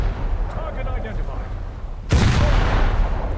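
Destroyer guns fire in a naval warfare video game, heard as a heavy, booming blast that follows a stretch of rumbling battle noise and leaves a loud, sustained roar afterward.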